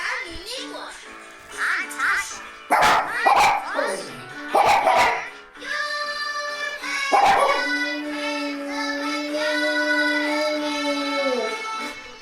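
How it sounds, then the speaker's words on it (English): A cartoon-style soundtrack with a dog barking in several sharp bursts, mixed with a voice and other voices, followed by a long sustained sung note. "my dog goes ballistic"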